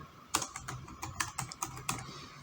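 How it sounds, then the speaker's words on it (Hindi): Fingers type a search into Google on a computer keyboard, a brisk run of a dozen or so close, crisp key clicks with no talking. "तो इसको आपने सिंपली गूगल पे जाके ऐसे टाइप करना है।"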